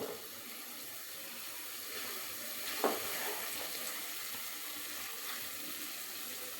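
Steady sizzling of garlic pickle cooking in a pan, with a brief scrape of stirring near the middle; no voices.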